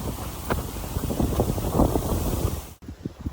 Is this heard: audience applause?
no